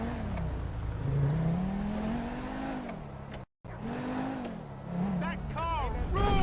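A car driven in GTA V on PC, engine revving and climbing in pitch, then easing off and revving again, with tire noise and a loud whine near the end; a person talks over it.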